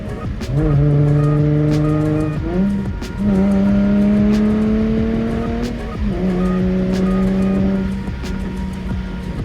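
Car with a failing engine running, a loud close drone that climbs in pitch and drops back through several gear-like steps, steady and harsh with no talking.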